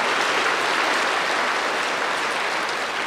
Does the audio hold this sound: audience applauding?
yes